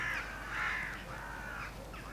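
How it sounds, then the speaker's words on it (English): Magpies calling in the background of a rural wood pigeon shooting spot, harsh chattering caws that rise and fall across a couple of seconds, fairly distant over steady outdoor ambience. "Noticed the magpies in the background."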